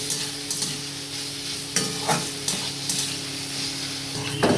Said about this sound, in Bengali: একটু ভালো করে মিশিয়ে নেব ঠিকভাবে ভেজে নেব